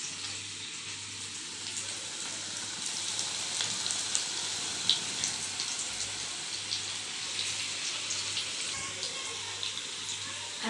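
Onion bhaji (kanda bhaji) frying in hot oil, a steady bright sizzle with soft crackles and pops, close up and continuous without talk, a faint low hum underneath.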